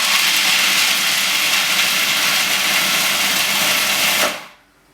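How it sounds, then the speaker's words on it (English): A kitchen blender grinds salted roasted peanuts in a loud, steady, near roar that holds for about four seconds and then cuts off abruptly, dropping into near silence. "I'm going to grind up the peanuts now in this same blender."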